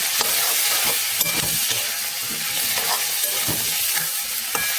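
Mushroom curry masala, a ground spice paste, sizzles steadily in a pan while it is stirred, with scraping strokes repeating close by and no talking.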